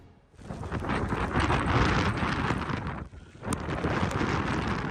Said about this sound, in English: It's gotten so windy.